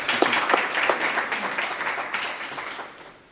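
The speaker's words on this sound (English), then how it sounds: "let's get a round of applause going for Mike" An audience at a university blockchain presentation gives a steady round of applause, dense clapping that holds for a few seconds and then fades out.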